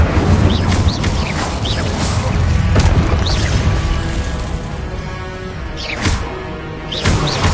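A fire spell cast again and again in Hogwarts Legacy on PS5, heard as repeated loud whooshing blasts and booms in a busy combat mix, with sharp bursts at several points.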